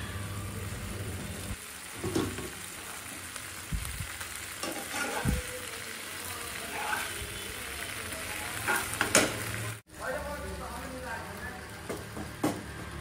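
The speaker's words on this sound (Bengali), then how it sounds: "তারপর এর মধ্যে দিয়ে দেবো পাস্তাটা দিয়ে ভালো করে নাড়াচাড়া করে নিই" Pasta with black pepper is stirred in a frying pan, a low continuous sizzle with scattered scraping and clinking from the spoon, faint and close, with a brief dropout near the end.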